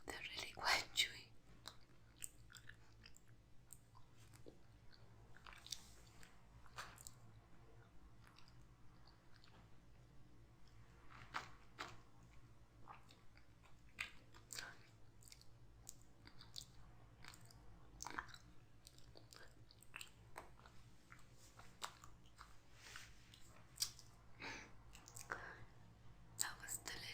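Soft, close chewing of a chewy natural medicine, with faint wet mouth sounds and small bites recurring irregularly under a quiet whispery background.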